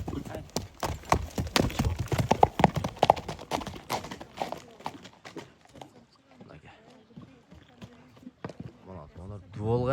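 A horse being shown for sale clip-clops with steady hoofbeats at close range, while people talk throughout; the hooves are louder in the first half and softer later.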